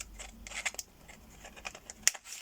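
Fiskars scissors handled at close range, giving a few light clicks and snips with soft rustling between them, plus one sharper metallic click near the end.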